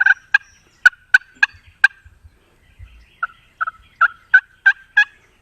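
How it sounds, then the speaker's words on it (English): A rapid series of soft turkey purrs and clucks made on a slate call, close and clear, coming in two short bursts. "like that, maybe some purrs."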